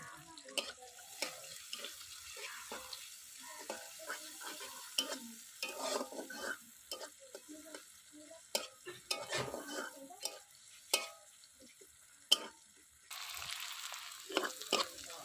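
Chopped onions fry in oil with crushed dried red chillies in a pan, giving a steady soft sizzle broken by frequent close scraping and clattering stirring strokes.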